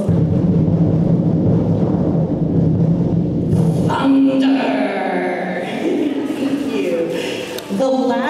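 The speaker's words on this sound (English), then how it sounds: "So our volunteer is going to make some sounds on the bass drum." Bass drum played as thunder at a school band concert, a low sustained rumbling roll lasting several seconds, followed by audience noise and voices.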